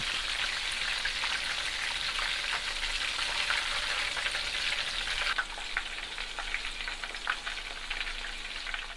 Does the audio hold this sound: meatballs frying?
yes